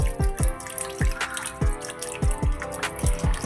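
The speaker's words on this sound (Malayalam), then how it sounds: "അതിലിരിക്കുന്ന വെള്ളം കൂടെ എടുത്ത് നമുക്കൊരു പാത്രത്തിലേക്കൊന്ന് ഒഴിച്ചു കൊടുക്കാം." Tender coconut water is poured into a bowl, falling in a regular series of distinct drips and plops, close and clear, over faint background tones.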